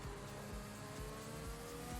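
Race cars in a racing video game run under a safety car, a steady continuous engine drone with no sharp revs, close and even throughout.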